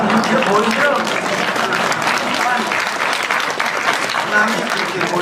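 An audience claps and cheers steadily throughout, while voices talk over the applause.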